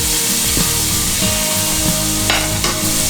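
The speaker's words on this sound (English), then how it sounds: "We're going to wait till our aromatic spices are nicely toasted in our ghee" Aromatic spices and a bay leaf sizzle steadily in hot ghee while ghee rice is cooked, a close, continuous frying hiss broken by soft stirring knocks and scrapes.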